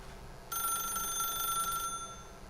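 A telephone rings in the video game The Stanley Parable, one bright electronic ring starting abruptly and holding steady for over a second before cutting off, alone over faint room tone.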